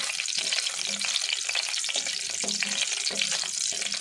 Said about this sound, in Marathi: तूप छान तापलं, आपलं ड्रायफ्रूट थोडं परतून घेणार आहोत